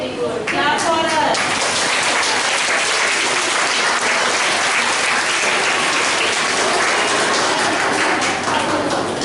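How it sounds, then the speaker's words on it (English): Schoolchildren clap at a class workshop, loud close applause sustained throughout after a brief spoken voice at the start. "Clap for her."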